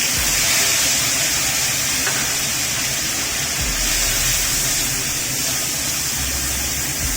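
Tomato paste dropped into hot tempered oil in a wok gives a loud, continuous steamy hiss and sizzle that holds steady throughout, with no voices.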